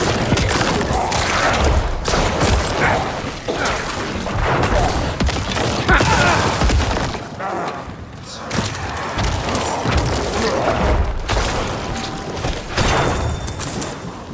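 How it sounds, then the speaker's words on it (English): Necromancer corpse explosions in Diablo 4 going off in rapid stacked bursts, a continuous barrage of heavy booms and thuds with brief lulls, loud and close. "apparently the corpse explosion stacks"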